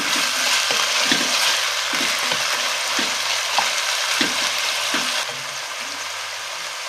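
A garlic and ginger mixture sizzles steadily in a pan for rougail sausages, with regular scraping stir strokes across it. Frying stays loud and constant throughout, and no one speaks.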